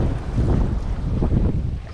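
Strong wind sweeps over a coastal jetty while fishing for rockfish, a loud continuous buffeting roar against the microphone with surf in the background and no talking.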